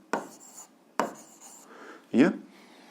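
A pen or chalk writes a physics formula by hand, making short scratchy strokes in three bursts, close and fairly quiet, with a brief spoken sound blended into the last stroke.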